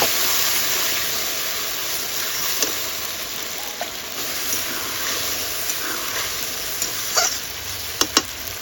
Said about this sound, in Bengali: পেঁয়াজ লাল লাল করে ভাজা হয়ে গেছে। এখন মশলা দিয়ে দেবো।